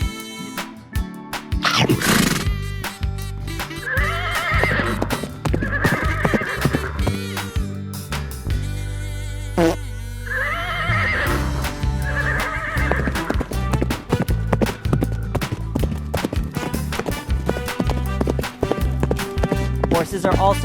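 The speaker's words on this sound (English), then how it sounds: "This is a horse." A horse neighs loudly in two long whinnies with steady hooves clip-clopping under and between them, close and prominent throughout.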